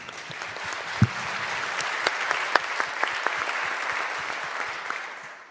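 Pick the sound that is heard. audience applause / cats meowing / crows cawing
audience applause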